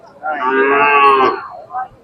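One loud, sustained moo from a nearby Khillar bovine at a cattle sale, followed by a brief softer grunt at the end. Nobody speaks.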